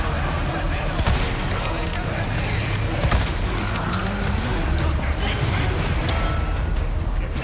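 Gunfire from the PS5 video game Resident Evil 4 Remake, dense, continuous shooting and clatter filling the whole stretch at steady loudness with game noise layered underneath.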